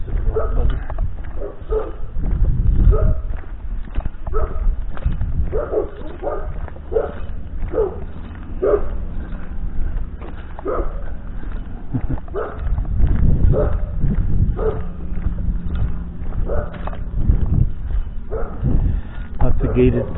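Dogs at a horse farm bark in short repeated bursts, some near and some farther off, with occasional yips between them and a voice speaking over them at times.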